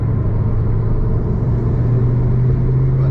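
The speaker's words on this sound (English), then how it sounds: "now we come out onto the straights and we're just 60 in no time. Fourth gear, you just feel the pull of the car. Very torquey engine" A Ford Focus ST3 accelerating in fourth gear on a straight, heard as a loud steady engine drone and road rumble from inside the car, with a pitch that creeps slightly upward and no talking.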